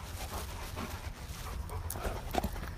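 Benjamin, a big, fast dog, pants quietly and rapidly after a run, the breathy rhythm continuing under faint outdoor background noise.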